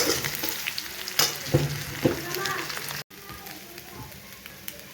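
Pieces of dudhi muthiya (bottle gourd dumplings) hit a hot tempering of sesame seeds, curry leaves and green chillies, sizzling and frying with a few sharp scraping stirs, close and moderately loud.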